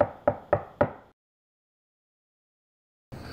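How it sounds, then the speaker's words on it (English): Four sharp knocks on a door in quick even succession, close and crisp, then silence before other sound resumes. "Knock on door."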